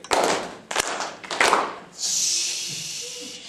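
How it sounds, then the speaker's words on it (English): A conference audience performs a group fireworks cheer: a few sharp claps and thumps, then a long rising hiss like a launching rocket that fades out. "Okay, everybody, fireworks cheer on 3."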